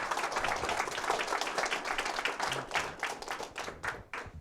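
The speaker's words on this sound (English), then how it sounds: "Can we please give them a round of applause," Audience at a campaign event in Anamosa, Iowa, breaking into applause, a dense crowd of clapping hands that holds steady then thins out near the end.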